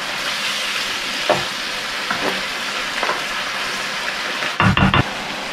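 Butter sizzling in a pan with pipis and wine, a steady close frying hiss with a few soft stirring scrapes and a cluster of louder clatters near the end.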